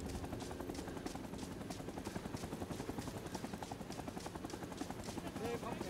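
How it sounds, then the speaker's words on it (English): Helicopter in the video game Rising Storm 2 thunders close overhead, a steady loud rotor chop with rapid rhythmic beating throughout, amid battlefield noise and voices. "That was literally a chopper right above us"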